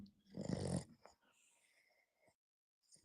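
Man snoring during a sports radio postgame show, one loud, rough snore followed by quieter breathy sounds and a faint snort near the end.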